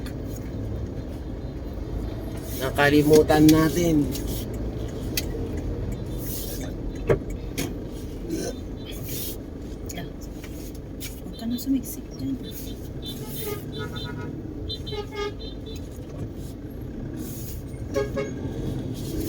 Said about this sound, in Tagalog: ganito pa lang mga oras dumada ng mga truck